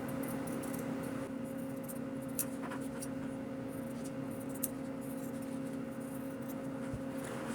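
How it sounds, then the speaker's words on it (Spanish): Good fabric scissors snip through patchwork fabric pieces along drawn lines, soft close crisp cuts recurring irregularly over a faint steady hum, with no talking. "cogemos nuestra tijera buena de tela y pasamos a recortar"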